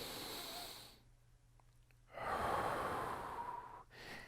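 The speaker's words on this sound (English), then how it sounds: "come down for a deep breath" A single deep, breathy inhalation during saxophone breathing practice swells up after a short quiet pause, close and fairly soft, with a brief airy exhale sound beforehand.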